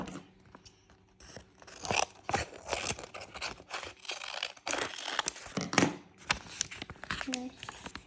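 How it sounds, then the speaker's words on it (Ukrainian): A plastic Mickey Mouse surprise packet crinkles and tears in a series of sharp crackling bursts, close up, with a voice speaking intermittently over the rustling. "як я буду розпаковувати цей пакетик"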